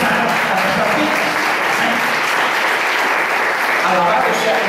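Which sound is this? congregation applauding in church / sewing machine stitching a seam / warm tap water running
congregation applauding in church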